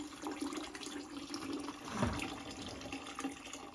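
Water poured off a tipped bucket of wet raw clay during wet-method clay processing: a steady, moderately quiet splashing pour with a slightly stronger gush midway, no talking.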